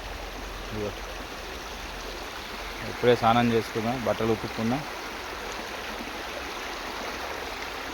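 The Jampanna forest stream in the Eturnagaram wildlife sanctuary, swollen after rains, rushes steadily in the background while someone talks briefly midway, his voice rising above the constant watery hiss.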